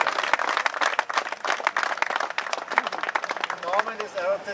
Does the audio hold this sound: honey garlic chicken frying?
no